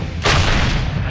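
A tank's main gun fires an armor-piercing shell at a target 500 meters away, a sudden heavy boom followed by a long rumbling roar that fills the rest of the moment.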